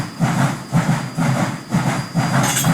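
Container train rolling through a rail yard, heard as a steady hiss and rumble with a repeating clickety-clack of wheels over rail joints, beating roughly every half second at close range.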